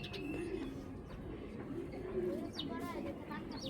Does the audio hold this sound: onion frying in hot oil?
no